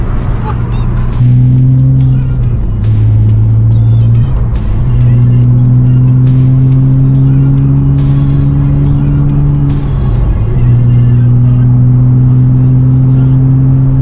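A Porsche Cayman sports car engine idles and revs repeatedly, pitch rising and settling in steady surges, loud and close with some background clatter.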